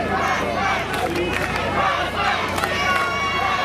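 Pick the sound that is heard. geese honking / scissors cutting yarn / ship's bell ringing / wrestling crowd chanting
wrestling crowd chanting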